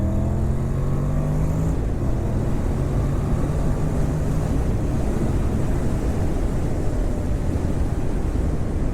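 A Honda NC700X motorcycle accelerates in second gear, its engine note rising briefly before heavy, constant wind roar from the ride buries it for most of the stretch.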